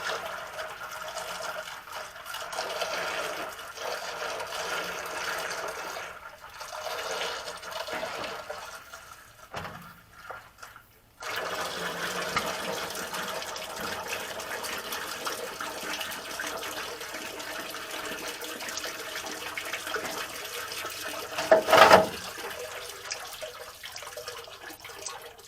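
Water runs steadily into a bath with a drain plug, a continuous close wash of flow that briefly drops out before resuming and swelling near the end, with no talk.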